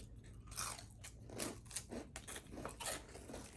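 Close, crisp crunching of small sour fruit being bitten and chewed, a quick irregular series of crunches over a few seconds with no talking.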